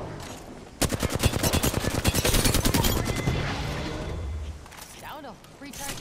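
Rapid bursts of automatic gunfire from a shooter video game, a dense rattling volley lasting a few seconds before thinning out, loud and close, with a voice talking over parts of it.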